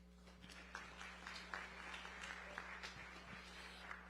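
A summit audience applauds Dr. Ivory Toldson with a soft, distant patter of many hands that runs continuously over a steady low hum, fairly faint and without distinct individual claps.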